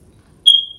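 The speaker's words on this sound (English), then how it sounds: "I'm going to change my smoke detector." A single loud, high electronic chirp from a household smoke detector sounds once, sharp at onset and then fading, in an otherwise quiet room.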